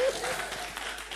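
A church congregation at a revival service bursts into brief applause, a dense wash of clapping heard close and fairly loud, with a voice over it.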